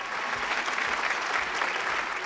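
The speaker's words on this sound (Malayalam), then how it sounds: "ഏതായാലും സനൂപിന് നല്ലൊരു കൈയടി." A game show studio audience applauds a contestant, a dense, even wash of clapping that holds steady for a couple of seconds.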